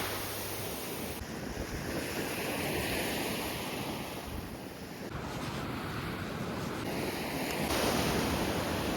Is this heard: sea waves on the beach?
yes